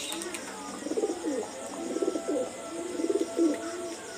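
Pakistani high flyer pigeons coo close by in soft, repeated throaty bursts, each lasting a second or so with short pauses between, over a quiet background hiss.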